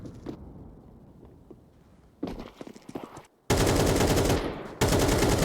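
Gunfire from a Counter-Strike 2 professional match on the Anubis map: a quiet stretch with faint clicks, then a burst of shots, and finally loud, dense sustained automatic fire that fills the end of the clip.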